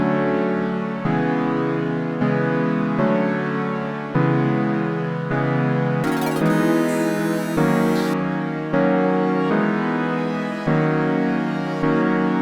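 A synth alternates between two sustained seventh chords in a steady, repeating pattern, loud and alone, with a brief brighter burst in the middle.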